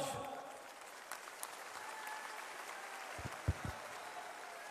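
A crowd applauds at a Chhattisgarh Marar Patel community oath-taking ceremony. The clapping is a dense, distant patter that holds steady throughout, with a few louder thumps near the end.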